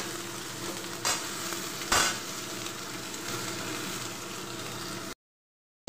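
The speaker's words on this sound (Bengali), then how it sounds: "কাঁঠাল বিচি আর আলুগুলো তেলের মধ্যে 2 মিনিট কষিয়ে নেব" Jackfruit seeds and potato pieces with tomato fry steadily in hot oil for a jackfruit-seed chorchori, a continuous close sizzle broken by two brief stirring scrapes, then cutting off into silence near the end.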